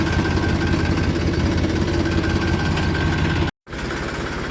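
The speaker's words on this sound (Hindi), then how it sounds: "आवाज़ भी मुझे ट्रैक्टर की मीठी मीठी आ रही" A tractor engine runs steadily on a farm during fodder work. A loud, continuous, rumbling drone cuts out abruptly for a split second, then resumes slightly softer.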